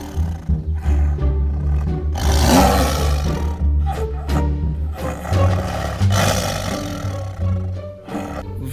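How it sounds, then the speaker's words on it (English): Tiger roaring loudly and close, several deep rumbling roars with grunts between them in an animal setting. "Oh, the great tiger."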